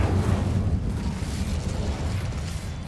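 In Hogwarts Legacy, the Incendio fire spell produces a continuous low, roaring whoosh of flame, steady and fairly loud for a few seconds.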